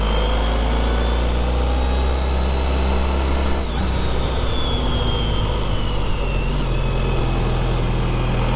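A Honda ST1300 motorcycle engine pulling steadily in fifth gear on a cold twisty road, a constant low drone mixed with heavy wind rush, loud and unbroken throughout.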